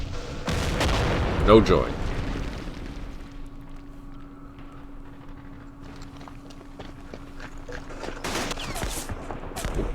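Shots fired at an anti-tank gun in a West Front war game around Aachen: a sharp loud volley of bangs near the start, a quieter rumbling stretch, then another burst of reports near the end, with a brief spoken remark.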